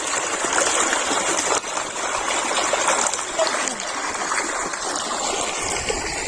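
Steady rushing of flowing water, a continuous bright trickle and gush filling the whole stretch, close by with no pauses.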